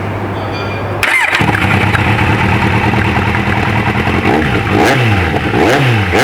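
A motorcycle engine with a dB killer fitted in the exhaust starts up and idles with a deep, steady exhaust rumble, punctuated by a few throttle blips that rise and fall, loud and close.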